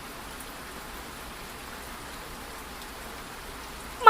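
Rain falls in a soft, continuous wash that stays even and fairly faint throughout, with a brief sharp tonal blip right at the end.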